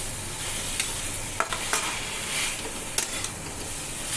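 Curry frying in a pan, sizzling constantly with a loud hiss close by, with several sharp scrapes and clinks as it is stirred, and no voices.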